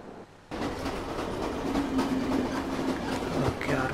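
A train rolls along the rails in the video game The Final Station, a steady rumbling clatter that kicks in abruptly after a brief quiet moment and carries on with faint squeals toward the end.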